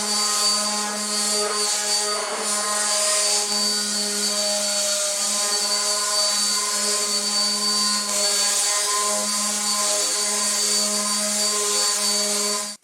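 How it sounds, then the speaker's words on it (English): A power sander with 220-grit paper works over a wooden jewelry box, making a steady, loud, high-pitched whine with a constant hum that runs close and unbroken the whole time. "we're going to hit this box with some 220 grit"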